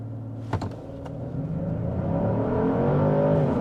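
A 2024 Genesis GV70 3.5T V6 compact luxury SUV accelerating hard from a stop, a few clicks then a rising engine roar climbing through firm gear shifts, loud and close, with no talking.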